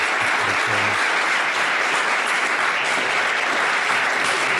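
Steady applause from a crowd, a dense wash of clapping that stays even and loud from start to finish.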